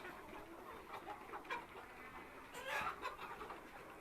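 Sonali hybrid hens of several colours, red, black, and reddish-brown, clucking softly in a farmyard, with scattered low calls rising now and then over a steady background hum, a little louder toward the end.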